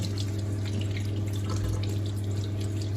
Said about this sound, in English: There we go, give them a good rinse.